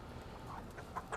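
Backyard chickens clucking softly nearby, a few short low calls scattered across a brief moment with no one talking.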